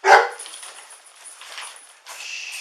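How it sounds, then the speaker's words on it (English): A dog barks once, sharp and close, during a police call in Lafayette, followed by quieter rustling, a steady high whine and background shuffling. "Hey, watch that dog."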